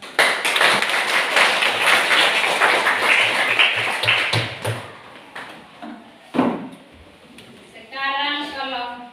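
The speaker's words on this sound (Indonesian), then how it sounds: "Ya, berikan aplaus." Students in a classroom give a round of applause, a dense burst of clapping lasting several seconds before it thins out into scattered claps, followed by a thump and voices.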